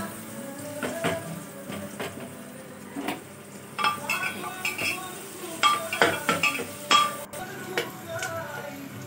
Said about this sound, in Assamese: এনেদৰে 5 মিনিটমান আপুনি সিজাব লাগিব, মানে পিঁয়াজখিনি ভাজিব লাগিব